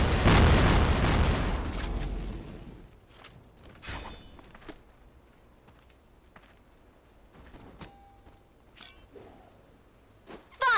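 A grenade blast in the shooter game Crossfire, a loud booming explosion that rumbles and fades over a few seconds, followed by quieter footsteps, small pops and thuds.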